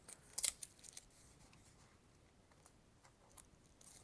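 A sticker being peeled off an 8BitDo Xbox media remote, giving quiet crackling tears and brief crisp bursts early on, then sparser faint ticks against a near-silent background.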